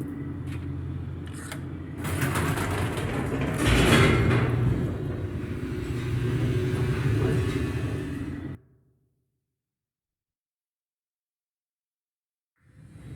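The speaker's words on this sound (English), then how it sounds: "The elevator raced downward," A steady, loud mechanical rumble of a descending elevator in The Stanley Parable: Ultra Deluxe holds for about eight seconds, then cuts off abruptly into silence before a faint sound returns at the very end.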